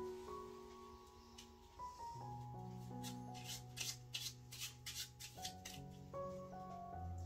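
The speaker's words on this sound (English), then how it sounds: "Shuffle them first." A deck of playing cards is shuffled by hand during a card trick, making a few quick papery riffling bursts over a soft, sustained musical backing.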